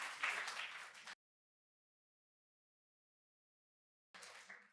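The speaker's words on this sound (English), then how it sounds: "Big round of applause to yourself." Audience applause at an international bioethics symposium: a burst of clapping for about a second, then silence, then another short burst, moderately quiet and slightly distant, with no voices.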